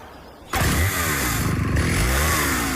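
A Husqvarna XP chainsaw starts abruptly and runs loud and close at high revs, a harsh buzzing drone that holds steady with slight fluctuations in pitch.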